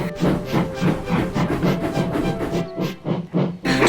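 A steam-hauled express train of three tank engines labours along in a toy railway scene. Rhythmic chuffing and clattering wheels pulse steadily, close and loud, then thin briefly before resuming.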